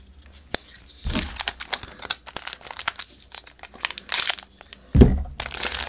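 Crinkly foil wrappers of Upper Deck hockey trading card packs rip and crumple up close in sharp bursts, with irregular tearing and rustling across several seconds.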